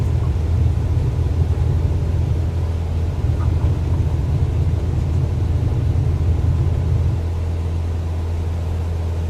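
Steady low engine roar of an aircraft rolling down the runway for takeoff in Microsoft Flight Simulator 2024, a constant loud rumble and hum held throughout, with no voices.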